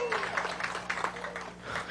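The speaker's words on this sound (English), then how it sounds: "Give him a big round of applause." An audience applauds at a Bassmaster Elite Series bass fishing weigh-in at Pickwick Lake, with a scattered patter of claps under an announcer's voice for two seconds.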